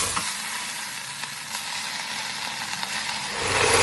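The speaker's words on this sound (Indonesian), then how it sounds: "Tumis sampai kuning." Coarsely crushed garlic stir-fried in a pan until golden, a steady close sizzle with scattered pops and crackles that swells louder near the end.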